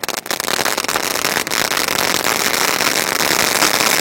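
Sivakasi skyshot fireworks burst in a dense, continuous crackling barrage, loud and close, with sharp pops layered over a steady roar throughout.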